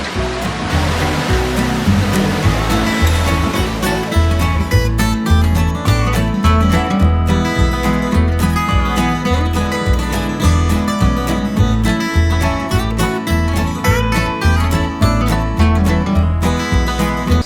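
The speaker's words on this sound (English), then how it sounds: "I see we are approaching our first waterfall right now. This is called Tom Branch Falls." Tom Branch Falls in the Great Smoky Mountains roars as a steady, loud, dense rush of falling water, close by and continuous, with no voices.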